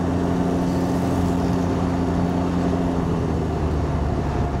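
A Can-Am Ryker 900 three-wheel motorcycle engine runs steadily, a low, even hum with constant drone tones and no revving, heard alone at moderate level throughout.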